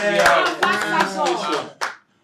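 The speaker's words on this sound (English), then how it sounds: "Let's give him a round of applause, please." A small group claps for an ambassador during a lively birthday greeting, with a handful of sharp separate hand claps scattered under overlapping cheerful voices that cut off abruptly at the end.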